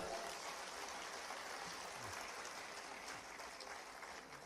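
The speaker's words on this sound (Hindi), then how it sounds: "भाई बहनों के लिए जोरदार तालियां बजाएं" Steady applause from a large crowd at an awards ceremony honoring Olympic and Paralympic medal winners, a dense even patter of clapping that holds for several seconds without a break.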